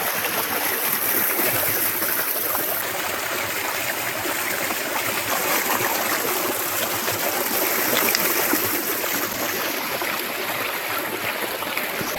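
Water from a well pump motor gushes into a water can beside a lake, giving a loud, constant splashing rush that never lets up, with no voices over it.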